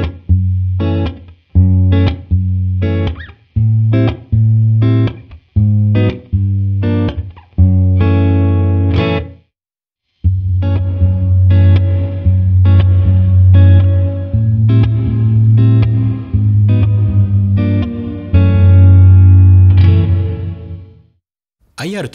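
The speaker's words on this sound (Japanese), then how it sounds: "IR って基本響きを収録したやつを再生する感じなので、こういう現実の部屋空間っぽいサウンドを出すのが得意ですね" An electric guitar runs through a Strymon BigSky MX impulse response reverb, with a series of short plucked chords followed by a long sustained passage, each note trailing into a realistic room-like tail, loud and alone.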